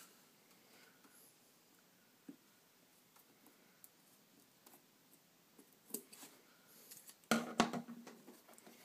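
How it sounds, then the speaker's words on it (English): Scissors trimming the overhanging foam edge of a shoe insole: quiet scattered snips and small handling sounds, then a cluster of louder, sharper cuts near the end. "So grab the scissors."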